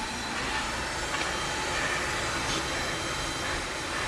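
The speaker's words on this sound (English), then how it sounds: "A steam-powered crane." A 1926 Ohio Locomotive Crane Company 20-ton steam-powered crane at a steam festival gives a steady, moderately quiet hiss and low mechanical rumble throughout, with no one talking.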